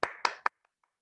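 Three sharp hand claps from students in an online class, quick and close together, then two faint taps before silence.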